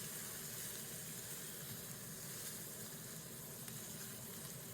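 Fillet steak searing in a hot pan with butter and garlic, giving a steady, close, continuous sizzle and hiss with no talking.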